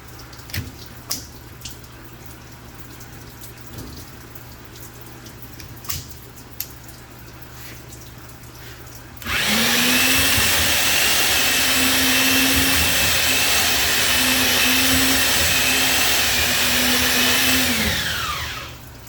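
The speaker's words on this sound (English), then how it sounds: "I can always hone more, so I'm going to stop." Cylinder hone working inside a 1969 Chevy Corvette L36 427 engine block: low background rattle, then a sudden loud, steady whirring grind that runs about nine seconds before cutting off.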